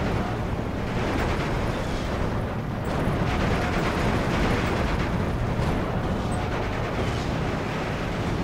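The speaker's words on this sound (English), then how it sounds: "And they're dropping more mortars in." Mortar shells explode in the video game Steel Division 2, a dense, continuous roar of booming blasts and rumbling impacts that never lets up.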